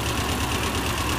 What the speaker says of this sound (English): Now we're mowing with Tim's tractor today